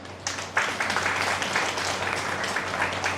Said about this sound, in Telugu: దీనికి మనం అందరం చప్పట్లు కొట్టుకోవచ్చు.